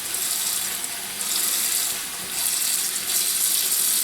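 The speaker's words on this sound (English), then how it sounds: "So I'm just going to put in enough water to cover them." Water runs steadily from a tap into a pot of collard greens, a continuous close splashing rush that swells and dips slightly over a few seconds with no talking.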